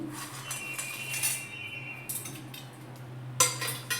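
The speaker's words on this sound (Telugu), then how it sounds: "చల్లారిన తర్వాత మొత్తం ఇలా మంచిగా కలుపుకోవాలి" A metal spoon clinks and scrapes against a glass or bowl while stirring a cooled summer drink made with dry fruits and rose petals, with sharp clinks at intervals over a quiet background hum.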